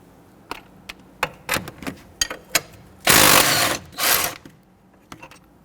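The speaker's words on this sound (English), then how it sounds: "Using a 24mm socket and wrench, we're going to loosen the nuts and remove those." Socket wrench loosening 24mm nuts on the front axle of a 2006-2014 Honda Ridgeline: a run of sharp metallic clicks and clanks, then two louder sustained bursts of ratcheting or grinding in the middle, all close and with no talk.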